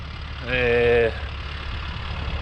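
A tractor engine runs while rolling land on a farm, a steady mid-range drone with a brief louder surge of harmonic revving, then settling back to a constant rumble in open outdoor air.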